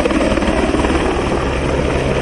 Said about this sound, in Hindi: सुरक्षा को देखते हुए ली मेरिडियन की छत पर हेलीकॉप्टर उतारकर तैयारियों का जायजा लिया गया